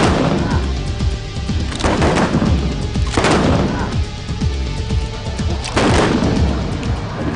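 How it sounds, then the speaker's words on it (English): Guns fired in a car park, loud booming shots that ring out one after another at intervals of about one to two seconds over steady, dense background noise. "The gun they're firing"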